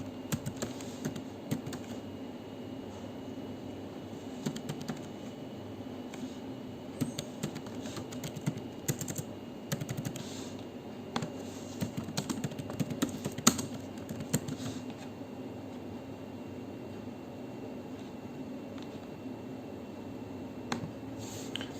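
Quiet, steady clicking on a computer keyboard as tax invoice details are typed into e-Faktur software. The soft keystrokes run continuously and alone, with no talking.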